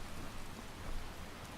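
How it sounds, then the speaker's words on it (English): Heavy rain pours steadily in the video game Skyrim, a dense, even hiss of downpour that stays constant for under two seconds, with no voices. "Oh, great. Pouring down rain."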